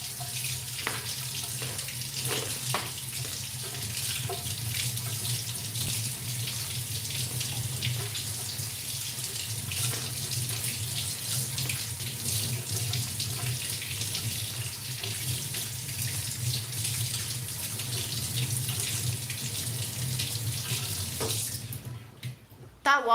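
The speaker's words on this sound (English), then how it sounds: "Can you help me rinse my stone?" Running tap water rinsing grit off a knife sharpening stone under a faucet, a steady close splashing gush lasting over twenty seconds before cutting off abruptly, with faint voices in the background.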